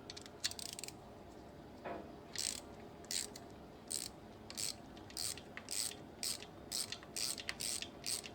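Bolt securing the differential pin on a Jeep Grand Cherokee ZJ 5.9 being unscrewed with a ratchet, giving a series of short, fairly quiet clicking bursts in an irregular rhythm, close up with no talk.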